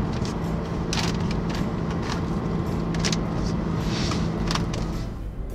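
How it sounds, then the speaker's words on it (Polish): A 2016 Renault Kadjar dCi 130 4x4 creaks and rattles from its interior trim while driving, repeated sharp ticks and squeaks scattered over a steady loud road and engine rumble. "ale samochód cały trzeszczy w środku"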